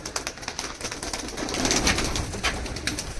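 A male Mirabale pigeon cooing close by, soft repeated coos over a busy background of rustling and other bird sounds, with no talk.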